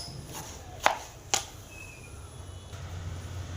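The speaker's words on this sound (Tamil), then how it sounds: "எந்த அளவுக்கு பொடியாக கட் பண்ண முடியுமோ அந்த அளவுக்கு பொடியாக கட் பண்ணிங்க." Bottle gourd chopped finely with a knife, two sharp distinct knife strikes on a board early on, followed by fainter taps over a quiet room background.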